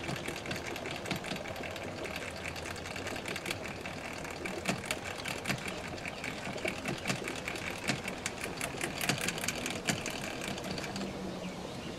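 A Hayward Goldline GVA-24 automatic pool valve actuator motor strains against its load, giving a steady close mechanical whirring with rapid ratcheting, gear-grinding clicks throughout.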